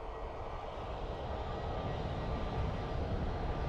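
An airliner takes off from Dublin Airport, a steady, loud jet engine roar that fills the whole span with a broad rumble and a slight rise in intensity toward the end.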